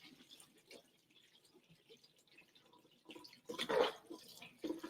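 Wild crafted sea moss is rinsed under running water, faint trickling and dripping that swells into a louder splashing burst near the end.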